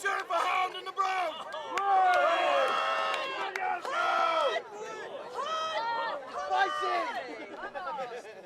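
Spectators at a Viking and Saxon reenactment wrestling tournament shout and cheer in loud, overlapping bursts of voices, rising and falling with raised yells near and chatter mixed in.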